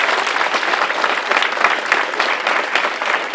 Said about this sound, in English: Give a round of applause to this sister